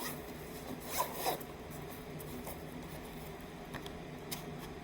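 A couple of quick zipper pulls on a tattoo pen's carrying case near the start, then faint rustling and small clicks against a steady low background hum.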